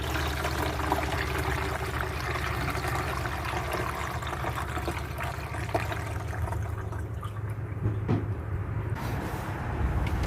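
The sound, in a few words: pouring coolant into car radiator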